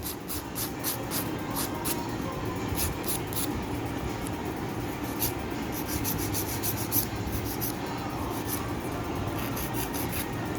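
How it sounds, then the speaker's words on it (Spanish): Acrylic nail extensions are filed at the tips with quick repeated rasping strokes, a steady close scratchy rhythm that keeps going without pause and carries no speech. "Ya aquí está limado todo lo que corresponde a punta."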